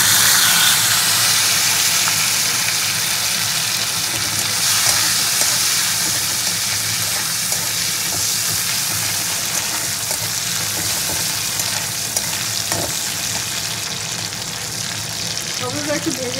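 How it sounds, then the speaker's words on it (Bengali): Chopped tomato hitting hot oil with tempered whole spices in a home kitchen pan, a loud, continuous sizzle and hiss that slowly eases as it fries, with occasional stirring scrapes. "এবার টমেটো কুচিটা দিয়ে দেবো।"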